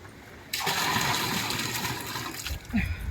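Water is suddenly poured out in a rushing, splashing stream that starts abruptly after a quiet moment and keeps flowing at steady strength until the end.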